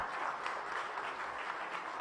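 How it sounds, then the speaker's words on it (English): Faint, distant applause from a panel discussion audience at an annual congress welcomes the moderator, a short patter of clapping heard alone. "Can we have a big round of applause for him first of all?"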